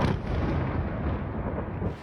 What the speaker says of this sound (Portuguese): Um zumbido seguido por uma explosão.